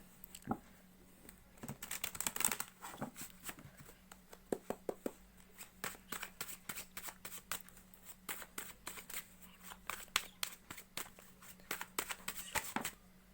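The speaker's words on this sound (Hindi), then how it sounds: "सो जब तक मैं शफलिंग कर रही हूँ" Tarot cards shuffled by hand, a close, quiet run of crisp riffling bursts and soft slaps repeating in an uneven rhythm, heard alone without talking.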